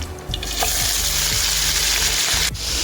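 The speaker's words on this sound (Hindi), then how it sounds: "गोश्त को हम घी में फ्राई करेंगे" Mutton hitting preheated ghee in a karahi for Peshawari charsi karahi gives a loud, continuous sizzle close up, with repeated low scraping thuds from stirring throughout.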